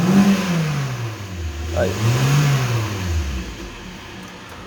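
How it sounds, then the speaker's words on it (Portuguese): Peugeot 307 engine running after repair of its BSI and electronic injection unit, revving up and down in slow swells, near and loud, with a brief spoken word over it. "Olha o 307 funcionando"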